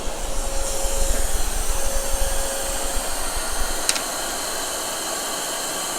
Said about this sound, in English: Our vacuum's on.